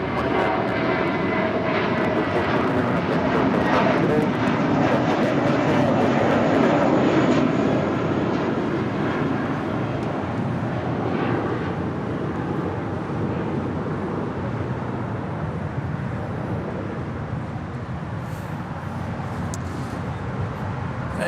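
Loud, sustained roar of a jet airliner at Los Angeles International Airport, engines holding steady for twenty seconds under broad rumbling noise with no voices.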